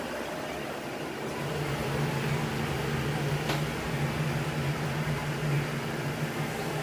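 An LG Twin Wash front-load washing machine spinning, a steady loud whirring hum with a low droning tone and constant rushing noise, close and unbroken.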